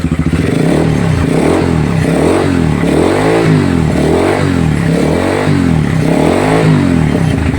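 A Zongshen motorcycle engine runs steadily and revs in a repeating rise-and-fall pattern, loud and close, with a rough mechanical clatter underneath and no talking.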